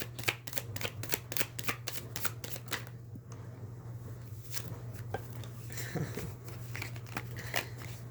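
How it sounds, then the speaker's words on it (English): A tarot deck is shuffled with rapid riffling flicks, then softer sliding and tapping of cards, fairly close with a steady low hum underneath. "too many cards falling out to take the next card, so I'm going to shuffle it again"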